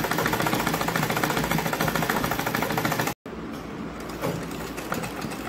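Sewing machine stitching the folded two-inch hem of a six-panel petticoat, a steady close rapid clatter that halts briefly partway, then resumes slightly fainter.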